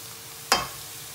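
Spices hit hot oil with frying onions, giving one sharp burst of sizzle that quickly fades back into a low steady frying hiss, close by with no talking.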